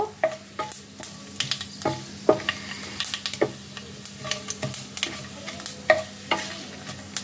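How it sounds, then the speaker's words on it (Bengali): Cloves and mace being stirred in hot oil in a pan, with a soft steady sizzle under irregular scraping and clinking strokes of a spoon, close and fairly quiet. "সবকিছুকে তেলের মধ্যে দিয়ে কয়েক সেকেন্ড নাড়াচাড়া করে নেব।"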